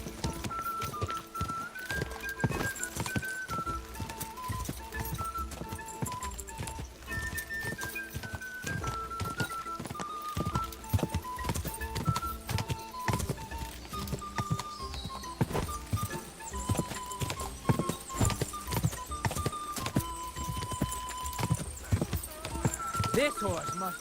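A horse gallops hard in the video game Kingdom Come: Deliverance II, its hooves drumming in a steady rhythm with snorts and whinnies, while voices talk over the racing.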